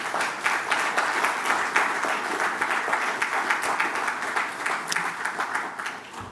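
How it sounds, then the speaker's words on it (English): An audience at a national forum on crime applauds a new police commissioner in Trinidad and Tobago, with loud, dense clapping in which individual sharp claps stand out and which swells and ebbs slightly before fading. "to give her a round of applause."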